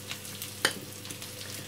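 Onion sizzling in a hot pan for a cauliflower gratin, a steady soft crackling hiss with one sharper stir-like burst midway, close and alone without voices.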